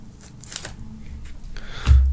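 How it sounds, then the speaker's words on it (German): Plastic shrink wrap peeled off a limited-edition Deichkind CD plus DVD box set, a close crinkling and crackling burst ending in a sharper rip. "dann werden wir auch hier natürlich die Folie abmachen"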